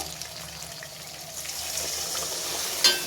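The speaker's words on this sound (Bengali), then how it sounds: "এবার এতে জল দেব।" Water is poured into a pan of spicy hand-mashed pabda fish curry that has been frying in oil, a soft steady rush of liquid over a low hiss, ending in a brief sharp splash.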